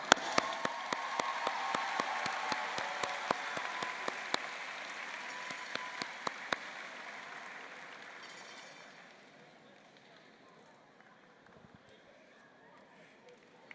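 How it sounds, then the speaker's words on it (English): Graduation audience at a university College of Science degree ceremony applauds, dense clapping with sharp individual claps standing out, fading gradually after about eight seconds into quiet room tone. "A big applause to them,"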